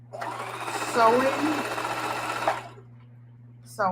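A sewing machine stitching a camouflage fabric tote bag runs in a steady, close whirring burst for about two and a half seconds, stops, then starts again, with a voice heard speaking during the run.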